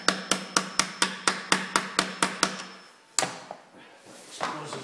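A hammer taps a washer onto a bolt: about eleven sharp metallic strikes in an even, quick rhythm, close and clear, then a pause and a few softer knocks and handling sounds.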